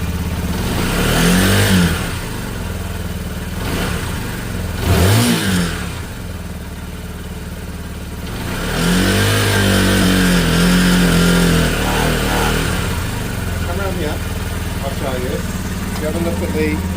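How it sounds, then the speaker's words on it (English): A Lexmoto Isca 125 scooter with a bogging problem, its engine idling and revving repeatedly up and down nearby, with someone talking over it. "when we rev it and hold it"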